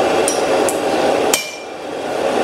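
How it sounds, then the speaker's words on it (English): Power hammer pounding at a blacksmith gathering with dozens of power hammers: three sharp metallic strikes at uneven intervals over a loud, steady workshop din, close by. "Kevin, how many power hammers you got?"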